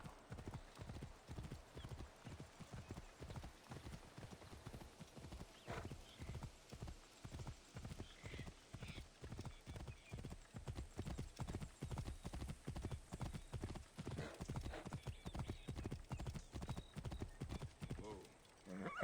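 A horse's hooves clip-clop in a steady galloping rhythm throughout the Assassin's Creed Origins video game, with a brief neigh partway through and people talking over the constant hoofbeats.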